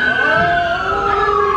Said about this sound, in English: Check out the little police car.